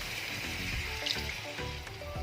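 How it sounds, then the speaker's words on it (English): Water sprinkled from a hand into a pan of coconut chicken curry, a soft brief splash and sizzle over a steady kitchen background, close and fairly quiet. "sprinkle some water."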